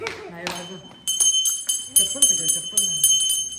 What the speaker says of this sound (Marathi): घंटा वाजवता